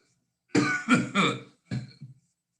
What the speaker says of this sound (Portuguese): A minha tosse aqui